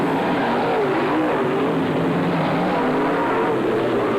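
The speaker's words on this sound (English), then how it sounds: "Billy Moyer, the veteran driver, the 21 car down the main straightaway around the 46 of Marty Thompson" Dirt track race cars at Brownstown Speedway in 1995 roar down the main straightaway, a loud continuous engine drone with rising and falling pitch as cars pass.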